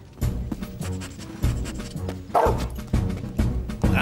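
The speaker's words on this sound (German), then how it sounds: "Und ich kann Hundegebell hören." A dog barks repeatedly in quick, uneven bursts, loud and close, with a few higher yips mixed in.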